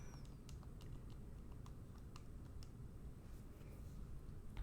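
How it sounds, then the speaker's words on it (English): Fingers tapping keys on a calculator while working a chemistry problem, a series of light, irregular clicks and taps, faint and close over low background hum, with no talking. "I'm just typing into my calculator right now"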